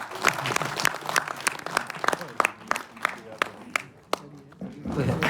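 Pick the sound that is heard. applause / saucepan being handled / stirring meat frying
applause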